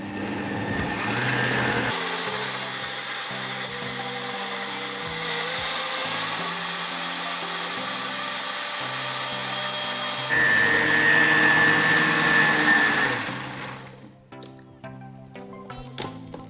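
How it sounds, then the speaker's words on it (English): A blender whirring as it purees cooked apples, a loud steady motor drone that rises in pitch as the fruit smooths out, then winds down to clicks and rattles. "you can just blend them up until it's a soft,"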